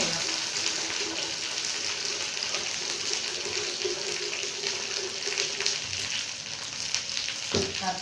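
Food fries in hot oil with a steady, dense sizzle that holds at an even loudness throughout, with faint stirring scrapes and no voices.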